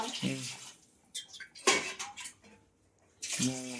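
Water poured from a tumbler into rice for hotel-style biryani in a home kitchen, a few short splashing pours separated by pauses, with someone talking before and after.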